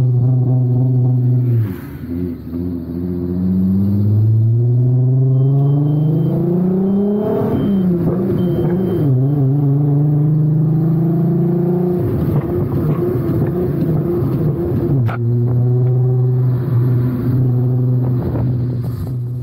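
A Nissan Skyline R32 engine revs through its exhaust, loud and close, climbing in long rising sweeps with brief drops between pulls, then settling into a steady throaty drone, with no voices over it.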